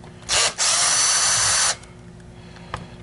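A power driver whirs while backing screws out of a Dyson DC23 canister vacuum, with a short burst and then a longer steady run of about a second, followed by quiet handling clicks.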